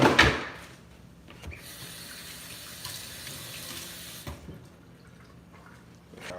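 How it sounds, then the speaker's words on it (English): Kitchen tap running into a sink while rinsing a measuring cup and utensils during nacho preparation: a close splashing gush at the start, then a steady stream with a few sharper clatters, no talk. "I'll rinse everything."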